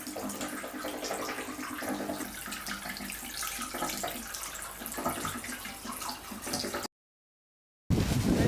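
Water runs steadily from a makeshift water feature, a close, continuous splashing gush like a tap pouring into a basin, then a brief silence before it resumes.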